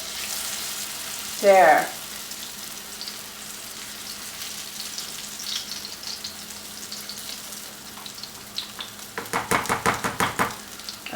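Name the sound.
potato pancakes frying in a pan, being flipped over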